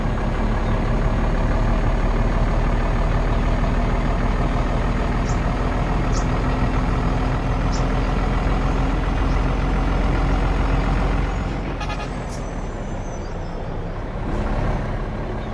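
A heavy truck engine drones steadily in a driving video game, with a short air-brake hiss and a drop in engine tone near the end; no one speaks.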